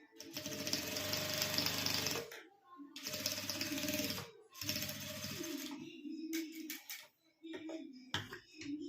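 A sewing machine stitches a fold of old shirt cloth in three long buzzing runs separated by short pauses, then breaks into quick, choppy bursts near the end.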